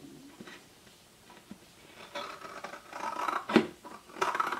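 Scissors cut fabric for a sewn hair towel, making quiet, close, crisp snips and slicing strokes that grow a little louder toward the end.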